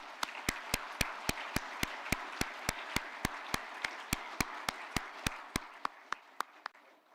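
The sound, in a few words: applause for the staff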